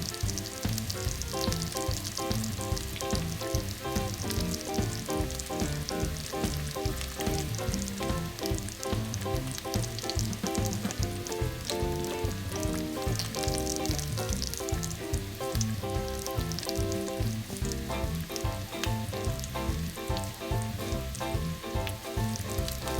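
Honey sauce being stirred in a pan makes a dense, continuous sizzle with a fast rhythmic scraping pulse of the spoon, steady and close, with no voices.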